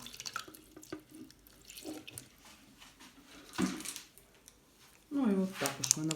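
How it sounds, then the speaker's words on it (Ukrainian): Warm water is poured into the reservoir of an orchid watering setup for Vanda orchids, heard as quiet, intermittent splashing and trickling with drips in between, while a voice speaks in short bursts. "вода в бункері зведена тепла. Просто заливаю по максимуму."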